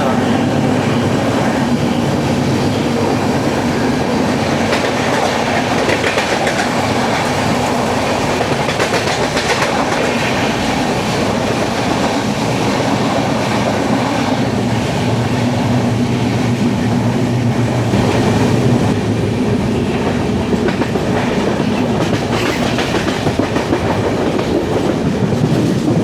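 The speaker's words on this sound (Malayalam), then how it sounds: "ഇത് നമ്മുടെ ടീ ഗാർഡൻ എക്സ്പ്രസ്സിൻ്റെ റേക്ക് ഉപയോഗിച്ച് ഓടുന്ന എറണാകുളം കോട്ടയം പാസഞ്ചറാണ്" An Ernakulam–Kottayam passenger train running on a Tea Garden Express rake rumbles steadily throughout, heard from on board, with a continuous low roar and rhythmic clickety-clack of wheels on rail joints.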